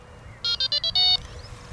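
A Delkim TXI-D bite alarm receiver switching on gives a rapid run of four short electronic beeps followed by one longer tone, crisp and close in a quiet setting.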